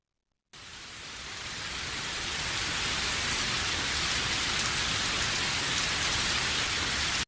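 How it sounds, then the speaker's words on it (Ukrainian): Steady rain pouring down outside a window, a dense even hiss that fades in quickly and holds at a constant level, with no voices. "Шум дощика за вікном."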